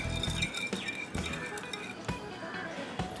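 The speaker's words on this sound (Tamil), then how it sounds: "சுகரும் பட்டர் மில்க்கும் நல்லா மிக்ஸ் ஆகிற மாதிரி மிக்ஸ் பண்ணிக்கிறேன்" A spoon stirs brown sugar and buttermilk for an eggless Christmas plum cake, giving several sharp clinks against the bowl at irregular intervals with soft scraping between them.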